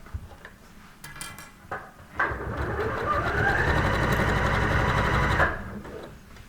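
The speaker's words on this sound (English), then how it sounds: "So just carefully sew all the way down." A sewing machine stitching a blouse seam runs in one steady, loud, whirring burst of about three seconds, preceded by a few soft handling clicks, with no talking.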